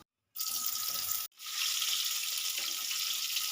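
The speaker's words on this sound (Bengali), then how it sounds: "তেলটা গরম হয়ে গেছে আলুটা আমি হালকাভাবে একটু ভেজে তুলে নেব" Boiled, salted potato pieces sizzle in hot mustard oil, a bright, hissing fry that starts abruptly, cuts out for a moment, then resumes steady and close.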